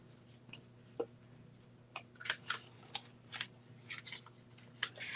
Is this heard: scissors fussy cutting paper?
yes